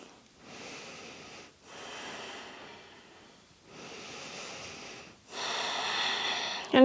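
Slow, deep breaths during an evening neck and shoulder yoga stretch, four long airy inhale and exhale cycles, close and steady, the last one louder and harsher, no voices.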